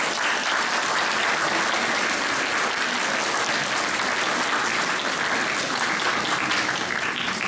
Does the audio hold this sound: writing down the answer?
no